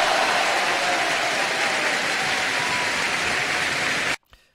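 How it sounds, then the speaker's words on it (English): Steady, dense applause from a crowd fills the air for about four seconds, then cuts off abruptly into near silence. "let's have a round of applause"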